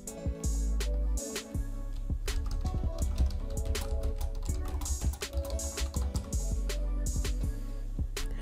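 Keys clack on a computer keyboard in quick irregular bursts, close and fairly quiet, as a header is typed out during a web page editing session, with no talking over it.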